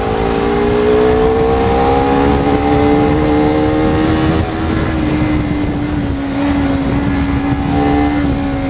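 A Honda CBR250RR engine revs hard in sport plus mode, its note climbing smoothly through the range and holding high, loud and close with no talk over it.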